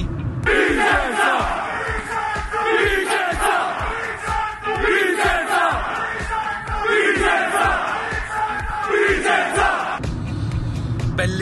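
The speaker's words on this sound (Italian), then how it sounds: "il saluto dei tifosi biancorossi ai nostri beniamini" Vicenza supporters in red and white chant and cheer in the stadium before a match against Spal, a loud rhythmic crowd chant punctuated by sharp claps, then a brief break into general crowd roar.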